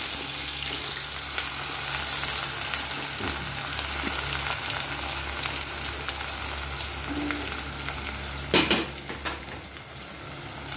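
Two large thinly sliced onions fry in hot oil for a chicken gravy, giving a dense, continuous sizzle with a few spoon-and-pan clinks and a sharper clatter near the end.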